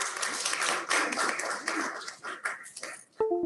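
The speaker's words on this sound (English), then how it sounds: "Let's give them a round of applause," A small audience applauds at the close of a Friday morning coffee program, with dense, continuous clapping for about three seconds that cuts off abruptly before a short tonal blip.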